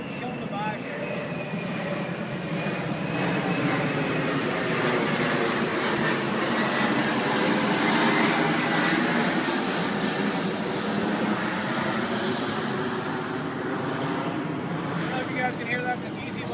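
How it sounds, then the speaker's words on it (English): A fixed-wing plane passing overhead above a kayak on the water, a steady broad engine roar that swells toward the middle and lingers, with music and voices faintly underneath. "after this plane flies over us"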